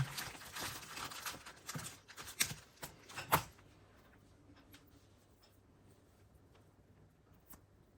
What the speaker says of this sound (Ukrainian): Я буду ножицями різати, тому що незручно